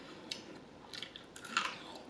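A crunchy pickle bitten and chewed close up, giving quiet, crisp irregular crunches and wet clicks over a soft background, with no talking.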